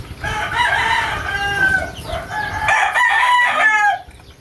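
Several chickens, a hen and her chicks, cluck and squawk close by, with a rooster-like crowing call rising among them, then a brief quiet at the end.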